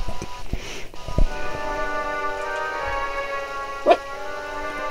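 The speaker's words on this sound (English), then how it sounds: "Puppies." Puppies bark and yip in the Hogwarts Mystery video game, several short high yaps scattered over a steady tonal music bed, with one sharper bark near the end.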